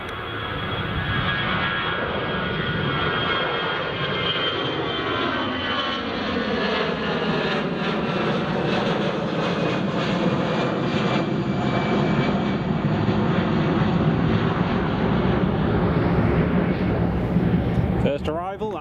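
Edelweiss airliner at Edinburgh Airport, a loud, sustained jet engine roar with a slowly shifting whine, steady for many seconds, with a brief rustle at the very end.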